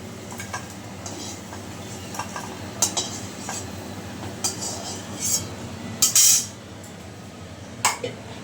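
Fried bora fritters being lifted from a pan give a few light metallic clinks and scrapes of a utensil against the pan over a faint, steady frying background.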